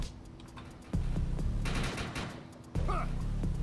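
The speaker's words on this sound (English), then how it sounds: "Stop shooting me!" Gunfire in the video game Defiance comes in loud bursts over a constant background hum, with a sharp volley near the start and another near the end.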